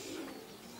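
A racing pigeon arriving at its loft gives a brief soft coo, faint and a little distant against a steady background hiss.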